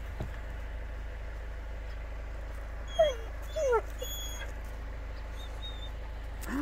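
A dog gives a couple of brief, high whimpers over a low steady rumble, like a quiet idling engine.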